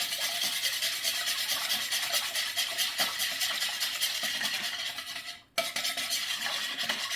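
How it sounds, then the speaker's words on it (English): A whisk scrapes steadily around a bowl, melting a big chunk of coconut oil into liquid alongside castor oil for a homemade body butter. The rasping swish is close and continuous, with a brief pause near the end before it resumes. "But I just whisk it until it's all liquid."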